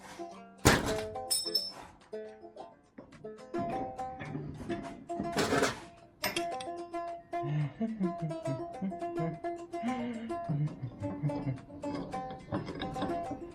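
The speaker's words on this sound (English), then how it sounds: "Hit it with a hammer" Sharp metallic bangs of a hammer striking a 1998 John Deere mower deck tension spring setup, a few heavy blows followed by a series of lighter ringing taps.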